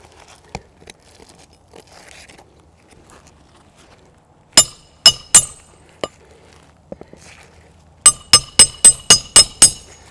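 Hammer strikes driving nails into roof shingles during a repair, a few sharp isolated blows followed by a quick run of about six evenly spaced hits, loud and close with quiet pauses between.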